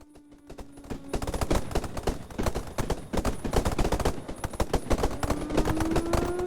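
Dense, rapid video game gunfire fills the whole stretch, with overlapping shots and loud automatic bursts close by and no one speaking.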